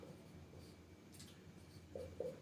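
Writing on a board during an art history lesson, heard as faint, steady scratching strokes against a low room hum, ending with two short, sharper squeaks.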